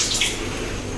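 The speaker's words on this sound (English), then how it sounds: "I have sprayed the water on WC." A handheld jet spray, the bidet-style hose sprayer, blasts water onto a WC toilet bowl, giving a steady, close, loud hiss of spraying water with no talk.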